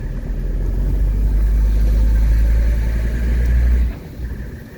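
A 1983 Mercedes 300CD coupe drives with a steady low engine rumble and road noise close by, holding level for about four seconds before dropping off sharply as it slows.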